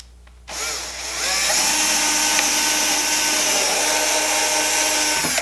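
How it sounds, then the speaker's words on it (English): A power drill with a 1/8-inch bit whirs steadily at close range, starting after a brief pause and holding a continuous high-pitched whine as it bores a pilot hole through wood. "I've got an 1/8 inch drill bit, and I'm just going to drill the hole"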